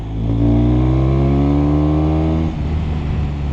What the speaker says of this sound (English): I can hear and kind of feel that valve click all the way open